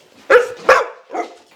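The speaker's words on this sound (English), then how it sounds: "she'll give out her hound dog bark" A hound-mix dog named Carmel barks sharply twice up close, then lets out a softer third bark, all in quick succession with no talk over it.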